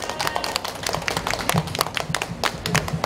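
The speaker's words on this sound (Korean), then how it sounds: "김성태 의원께 큰 박수와 함성으로 그동안 노고에 감사를 표해 주시기 바랍니다." Crowd at a traditional market festival breaks into brisk, scattered clapping, many hands close and loud for a few seconds, with faint cheering mixed in.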